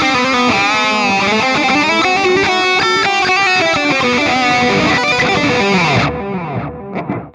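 A Mooer GTRS electric guitar with its built-in delay effect plays a loud, dense run of notes trailed by echoing repeats, then cuts off and leaves a brief fading tail.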